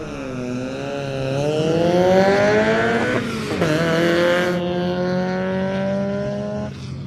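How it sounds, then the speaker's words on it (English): A Mazda MX-5 race car at a hillclimb start line, its engine revving loudly and climbing in pitch through several gear changes, staying close and strong before easing off near the end. "Another MX-5 coming up to the line."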